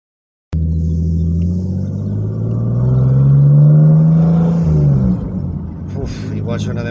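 A BMW E46 with a full stainless steel exhaust starts abruptly and revs loudly, the engine note rising and falling with crackling pops at the end, close to the microphone.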